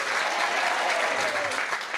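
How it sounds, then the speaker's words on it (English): Audience applause, dense steady clapping from a crowd filling the room at moderate loudness, with faint voices mixed in. "I want a big round of applause on that one"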